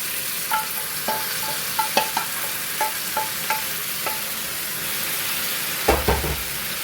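Chopped garlic, onion and other ingredients fry in oil in a pan until browning, giving a steady sizzle broken by repeated sharp scrapes and clinks of a spoon stirring. No one speaks.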